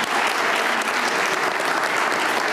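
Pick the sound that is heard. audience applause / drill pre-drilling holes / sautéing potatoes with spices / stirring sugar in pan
audience applause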